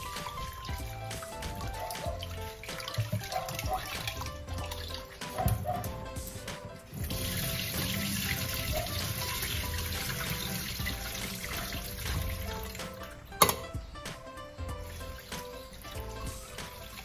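Tap water runs steadily over glutinous rice being washed by hand, a constant mid-level splashing trickle with occasional clinks, heard alone without talk.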